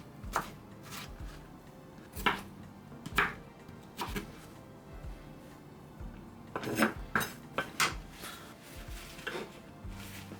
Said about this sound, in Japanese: きゅうりを切っていきます。